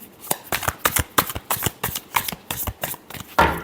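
Tarot cards are shuffled by hand close up, a rapid series of crisp riffling flicks and slaps in an uneven rhythm, ending with a louder final riffle.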